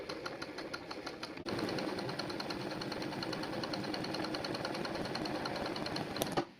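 Embroidery sewing machine stitching a running stitch, a quick regular mechanical clatter that starts softly and then runs steadily and closely, with no voices.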